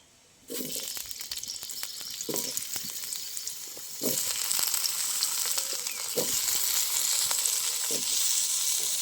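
Cut potatoes sizzle and fry in hot oil seasoned with black cumin and dried red chillies, with steady close crackling and repeated soft scrapes and thumps as they are stirred in the pan.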